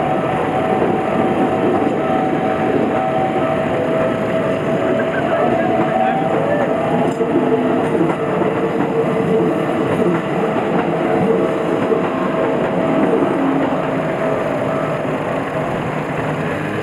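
A train passes on tracks in Tokyo with a steady, loud rolling rumble and faint rail tones that hold for the whole stretch, with people talking over it now and then.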